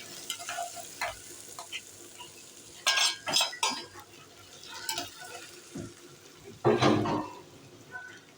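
More than a quarter kilo of minced meat drops into a pan of wilted onions and gets stirred with a utensil. Soft sizzling runs under bursts of scraping and clinking spoon strokes, close by, with no speech.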